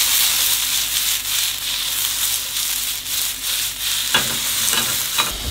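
Onions and mushrooms sautéing in a pan for a Napolitana pasta: continuous bright sizzling with scraping stir strokes, close and fairly loud, with a few sharper clatters near the end.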